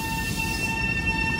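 A Long Island Rail Road train passes at Mineola station with a steady, loud rumble and rolling noise, and faint high tones ring over it.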